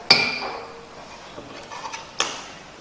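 Metal electrodes and a glass U-pipe clink against a glass laboratory beaker in a sharp tap followed by a few lighter scattered knocks and a second crisp clink, close and alone.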